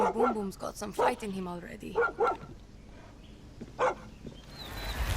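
Dog barking in the video game Far Cry 6, a few short yips and barks mixed in with someone talking, then a brief bark near the end over game ambience.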